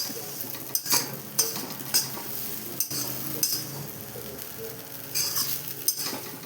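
Sabudana fries in a kadhai, a steady sizzle under regular scraping and metallic clinks of a spoon stirring, roughly one stroke each second, close and fairly loud, with no speech.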